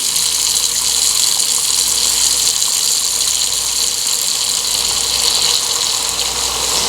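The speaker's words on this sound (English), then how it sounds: "we just turn our water on hot and let it run" Hot tap water runs steadily into a kitchen sink drain, producing a continuous hissing, splashing rush at close range with no voices.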